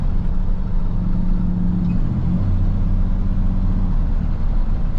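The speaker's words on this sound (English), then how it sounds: "Lots of traffic today here" Steady road traffic drones heavily around a 5-ton truck driving south on Crowchild toward Glenmore Trail, a loud continuous engine and tyre rumble with a faint low tone running through it.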